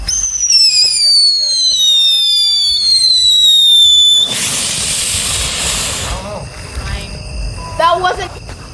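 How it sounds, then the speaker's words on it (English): A firework bomb bursts outdoors at a backyard fireworks show, a sudden loud broadband blast after a whistling rise, followed by crackling debris and fading hiss. "we're gonna see this bomb blow up"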